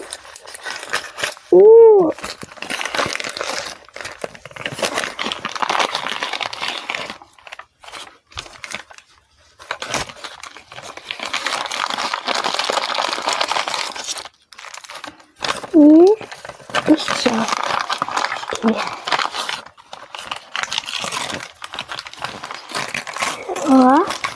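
Crinkly plastic wrapping of a New Year gift package being handled and pulled open, producing bursts of crackling and rustling over about twenty seconds, close to the microphone, with someone talking intermittently throughout.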